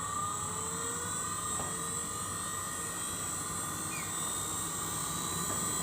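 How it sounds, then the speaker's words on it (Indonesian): Laboratory centrifuge spins up toward 6000 rpm during an enzyme practical: a steady, fairly quiet whirring hum with a high whine and broadband rush, holding even throughout. "Ini mulai sentrifugasi."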